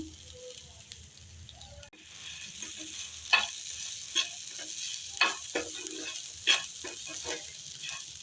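Crispy sweetcorn snacks tossed in a pan with coriander leaves: a low frying sizzle runs under a series of sharp spatula scrapes and knocks, irregularly spaced and close.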